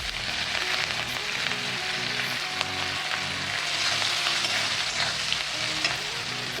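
Mustard seeds, cumin, four dried chillies, garlic and curry leaves fry in hot oil as a steady, loud, close sizzle with faint stirring scrapes throughout, no voices.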